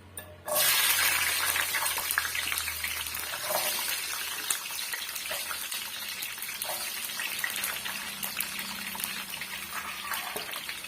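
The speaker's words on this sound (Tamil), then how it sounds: "இப்ப நம்ம எடுத்து வச்சிருக்க வெள்ளை பூண்டை இதோட நம்ம சேர்த்துடலாம்" Garlic cloves sizzle and fry steadily in hot oil for a tomato chutney, a close, continuous crackling hiss that starts abruptly and holds throughout with faint stirring.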